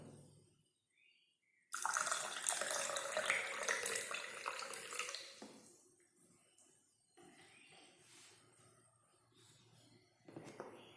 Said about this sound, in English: Now if you add some water to this, let's see what happens to this one.